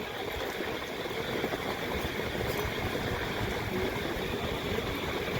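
Heavy rain pouring down over streets and homes already flooded after a full night of rainfall, a steady dense wash of water noise that stays constant throughout with no voices.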